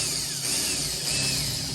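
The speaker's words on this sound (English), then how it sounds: "I'm gonna barely drill into the plastic so the head of this bolt isn't sticking up like that" A power drill bites lightly into the plastic of a custom rear diffuser to seat a bolt head. It gives one short, steady high whine up close, with no talking.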